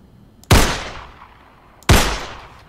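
Two loud, sharp gunshots ring out about a second and a half apart, each with a booming decay, in a game.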